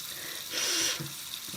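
Tap water runs briefly at a sink while hands are washed, a short hissing splash that swells for about half a second and then fades, close by with no talk.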